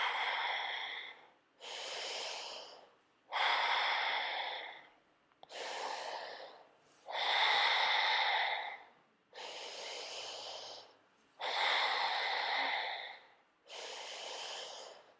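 Slow, deep breaths during a power yoga flow, long airy inhales and exhales alternating in a steady rhythm of about eight breaths, close and clear with no talk.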